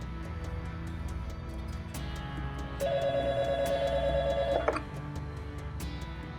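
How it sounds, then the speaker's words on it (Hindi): A telephone rings unanswered indoors: a single electronic ring tone plays for about two seconds at moderate volume, then cuts off, against a low room hum with no one speaking. "साकिब मेरा फोन क्यों नहीं उठा रहा?"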